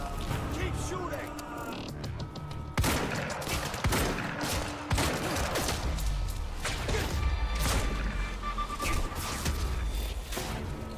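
Dense, continuous gunfire and impacts from the video game Quantum Break pound throughout at loud volume, with sharp bursts, while a player talks over the action.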